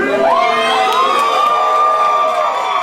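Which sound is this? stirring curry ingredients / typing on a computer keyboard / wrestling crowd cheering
wrestling crowd cheering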